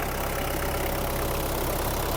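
A Kubota KL-550 mini tractor's 2400 cc four-cylinder naturally aspirated diesel engine drones steadily at close range, a continuous even rumble with no voices.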